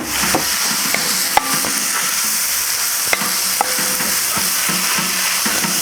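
Noodles and bean sprouts stir-fry on a Kamado Joe Classic II grill, a steady loud sizzle running throughout with occasional sharp clicks and scrapes of a utensil against the pan.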